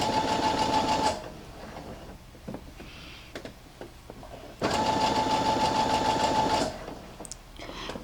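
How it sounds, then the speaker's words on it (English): A sewing machine stitches a gathering stitch on fabric in two fast, even bursts of about one and two seconds, with quiet handling clicks and fabric rustling in the gap between them. "So we're just gonna sew all the way to our second gathering stitch notch."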